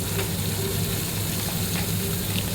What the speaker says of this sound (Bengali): পেঁয়াজটা দিয়ে একটু নাড়াচাড়া করে একদম ভাজা ভাজা হবে ঠিক ততক্ষণ ভাজবো